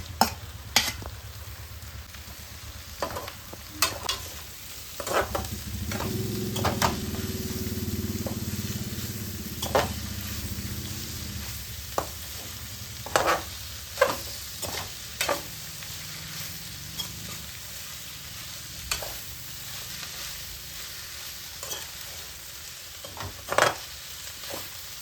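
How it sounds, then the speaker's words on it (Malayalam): Chopped onions for a beef curry sizzle in a pan, a steady hiss swelling in the middle, broken by scattered clinks and scrapes of stirring, with no talking. "നമ്മൾ അരിഞ്ഞ് വെച്ചിരിക്കുന്ന സവോള ചേർക്കുവാണേ."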